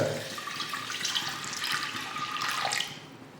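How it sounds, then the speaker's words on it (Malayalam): Water, about a cup, pours steadily into a pot of dal and raw banana for a few seconds, a continuous splashing rush that fades slightly at the end. "ഇനി ഇതിലേക്ക് ആവശ്യമായ വെള്ളം ഒഴിച്ചു കൊടുക്കാം"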